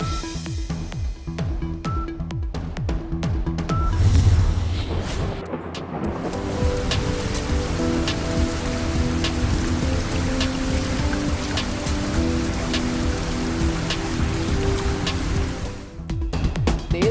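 Light drizzle falling in Punjab amid strong winds, a continuous soft hiss of fine drops with some gusty rushing, moderately loud and steady with no voices.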